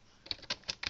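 Typing on the keyboard of an Altair 8800 computer running MIT's 8K Altair Basic, four crisp key presses in an even rhythm, close and quiet, with nothing else in the room.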